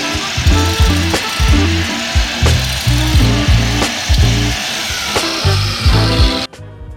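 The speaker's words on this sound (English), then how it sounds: "Scraping off the remaining burrs that were left." Metal burrs are scraped off parts of a 5-gallon metal bucket smoker in repeated loud, rhythmic rasping strokes, close by and alone, ending abruptly.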